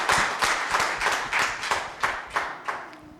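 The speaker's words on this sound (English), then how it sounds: "So a round of applause for Winnie" A small group at a celebration summit claps for Winnie, a rhythmic series of about ten distinct loud claps in a steady beat, close and clear with no talk.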